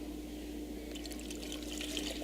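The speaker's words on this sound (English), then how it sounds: "So go ahead and put some water in" Water is poured into a measuring beaker, a faint trickling and splashing that starts after about a second over a quiet background hum.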